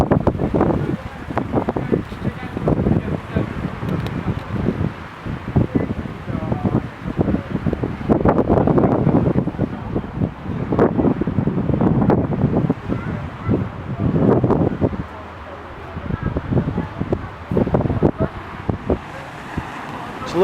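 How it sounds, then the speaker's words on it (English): Strong wind buffeting the microphone on a Turks and Caicos beach, continuous low rumbling gusts with surf in the background, while someone talks over it. "It's a little windy today."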